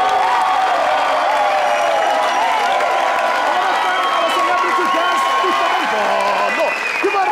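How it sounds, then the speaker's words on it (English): A television studio audience applauds loudly and continuously, with some cheering mixed in, while voices carry over the clapping. "Give them a round of applause."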